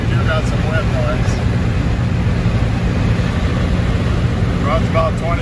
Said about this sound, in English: Got a little bit of northwest wind today. Getting up about 15 miles an hour, so you do got some wind noise.